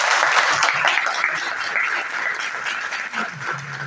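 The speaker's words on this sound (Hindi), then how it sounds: "बहुत जोर से ताली बजाइए" An audience at a university International Translation Day event in India breaks into dense, sustained applause that fills the room, easing slightly near the end as a voice begins underneath.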